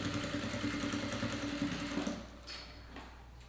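A sewing machine stitches the lower edge seam of a shoulder bag, a close steady whirring hum that slows and fades out after about two seconds.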